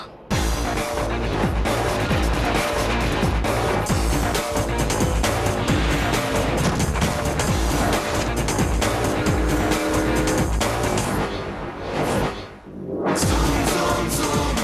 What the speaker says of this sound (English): Introducing the all-new 220 horsepower Mazda 6.